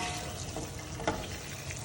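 Bacon sizzles in a pan while collard greens cook nearby, a steady soft hiss with faint crackles, close and quiet, with no talking.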